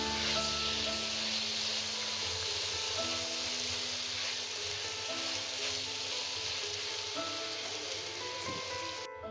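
Egg fried rice with tomato sauce being stirred in a hot pan gives a steady, soft sizzle with a rain-like hiss that holds evenly the whole way through, with no talking.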